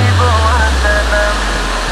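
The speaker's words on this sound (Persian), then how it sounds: "این آبشار دلانگیز در ولسوالی وردوج ولایت بدخشان موقع دارد" Warduj waterfall in Badakhshan, a small scenic fall with clear water, pours in a steady, loud, close broadband roar with no pauses, and a few faint whistling tones drift over the rushing water.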